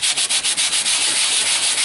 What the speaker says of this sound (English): This is referred to as block sanding.